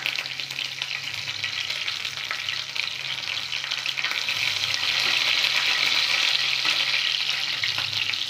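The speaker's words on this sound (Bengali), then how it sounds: "কারি পাতাগুলো একটু ভালো করে ভেজে নেব।" Curry leaves frying in hot oil for a shrimp pickle, a steady crackling sizzle that grows louder and denser halfway through, close and continuous with no voices.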